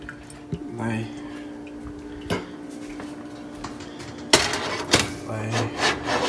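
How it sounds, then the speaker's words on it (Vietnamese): A cooking pot being carried and set down on a stove in a home kitchen while chicken glass noodle soup is prepared, giving a few sharp metallic clunks and clatters, one louder knock near the end, under low background noise. "Sẽ bê cái nồi này ra để đặt lên bếp nha mọi người."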